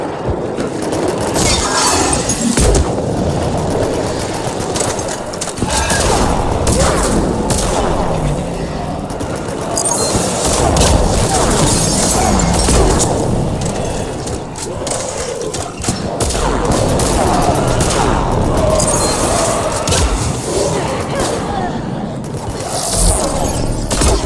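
A shootout in the 2012 video game Mass Effect 3, with dense, loud gunfire in sustained bursts and rattling volleys interspersed with heavy booms and impacts, continuing almost without pause.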